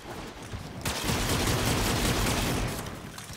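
A fart gun in a video game fires a sustained, dense, noisy burst lasting about two seconds. The blast is loud and rushing, and the sound stands alone.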